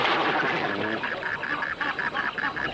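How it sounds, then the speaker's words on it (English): Great white pelicans flocking at a drying oxbow on the Luangwa River in Zambia give off a steady run of honking, goose-like calls, several birds overlapping in a dense rhythmic chorus at moderate distance. "Catfish are more to the taste of the great white pelicans who flock to the drying oxbows for easy"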